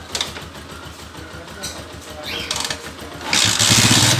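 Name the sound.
TMX 155 motorcycle engine running with loud exhaust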